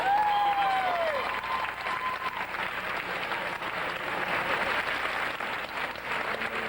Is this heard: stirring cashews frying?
no